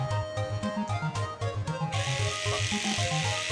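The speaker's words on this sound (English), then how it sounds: "It's an electric toothbrush too" Electric toothbrush buzzing steadily and close while someone brushes their teeth with Nutella, a continuous motorized hum with a rhythmic pulsing pattern and no talk over it.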